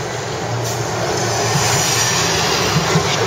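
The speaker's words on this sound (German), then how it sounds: "Straßenbahn" A tram passes through central Melbourne as a loud, steady rumble and roar that builds slightly over a few seconds, with no talking.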